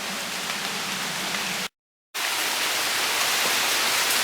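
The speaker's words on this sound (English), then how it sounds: "Rain's picking up again." Heavy, steady rain pours during Hurricane Harvey in Houston, a dense close hiss of downpour with a brief dropout of total silence midway before the torrent resumes at the same intensity.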